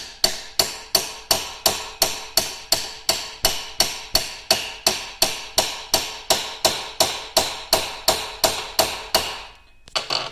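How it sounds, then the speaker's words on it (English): Steady, rapid metallic hammer taps on an ATV/UTV U-joint yoke during U-joint removal, about two or three blows per second, loud and close, continuing without pause for ten seconds. "use our hammer and tap on the yoke"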